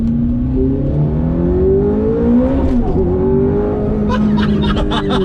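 A Ferrari F430 engine pulls hard and steady, its pitch rising through the rev range and then dropping sharply at a gear shift around the midpoint before climbing again, loud and close from inside the cabin.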